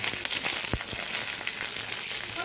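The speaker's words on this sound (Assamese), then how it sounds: "লুটিয়াই ভাজি ল'ম" Lentils sizzling and frying in mustard oil, stirred now and then with a few soft scraping knocks, a steady close crackle throughout with no voices.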